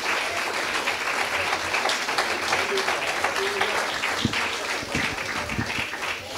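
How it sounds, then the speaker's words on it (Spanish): A church congregation applauds for the King, sustained clapping under loud voices and shouts throughout. "dale un fuerte aplauso al Rey."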